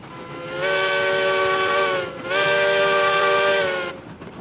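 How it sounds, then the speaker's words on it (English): A steam locomotive whistle in the railroad video game Railroads Online sounds in two long, loud, steady blasts separated by a brief break, with a faint hiss after. "I do hear another whistle out there somewhere."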